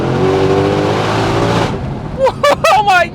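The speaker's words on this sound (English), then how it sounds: "And when you go full throttle, it hooks." A 2020 Shelby GT500 roars hard at full throttle for about two seconds, loud and close, then cuts off. Excited voices take over right after.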